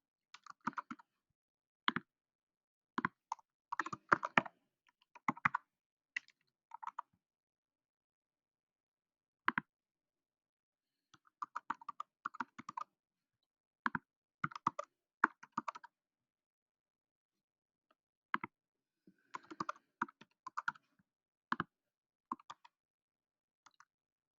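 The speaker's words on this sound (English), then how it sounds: "Let me be your customer and I'm typing all my details." Keys clatter in short irregular bursts of clicks as customer details are typed into a subscription form on a computer keyboard, with quiet pauses between flurries and no voices.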